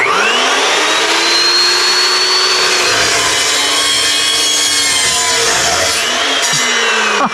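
A new power tool cuts through steel trailer metal with a loud, continuous rasping whine that holds steady for about seven seconds, close up and with no talk over it.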